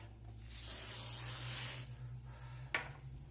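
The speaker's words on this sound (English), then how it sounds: "So you can spray it again if you like." Oil spray hisses onto quesadillas in an air fryer in one close burst of a little over a second, then a short sharp click follows in a quiet kitchen.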